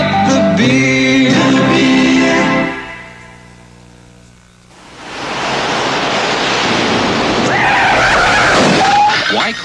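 A car skids when it fails to stop in time, with a long harsh rushing screech building after a brief quieter gap, while a voice speaks over the earlier part.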